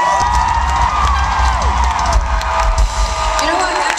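A concert audience applauding and cheering for a keyboard and guitar player at a show at SXSW, a steady loud crowd roar with whoops throughout, under music.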